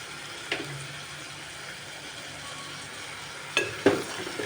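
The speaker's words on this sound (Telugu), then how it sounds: "కలుపుకొని మళ్ళీ ఒక 5 నిమిషాలు కారంలో మగ్గించుకోవాలండి" Dalcha (katta) with tomato simmering in a pan, a soft steady bubbling hiss with a few brief stirring scrapes near the end, with no talk.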